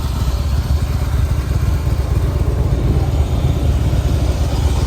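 A Harley-Davidson motorcycle fitted with a Rinehart 3-inch slip-on exhaust idles loudly nearby, a deep, lumpy, pulsing engine beat that keeps its uneven rhythm throughout with no speech.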